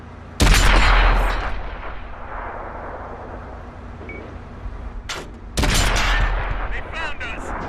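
M41B Brazilian Bulldog tank cannon in World of Tanks, two loud booming shots a few seconds apart, each with a rolling echoing tail.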